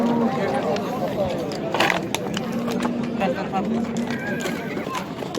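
Horses at a busy horse market in Özgön, with neighs and whinnies and hooves clip-clopping amid a steady crowd murmur and people talking nearby.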